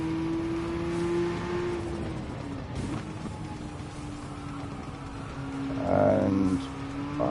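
A Rothmans Porsche race car engine drones steadily at Red Bull Ring in Gran Turismo 7, holding a near-constant pitch with slight dips and swells and a brief louder rise toward the end.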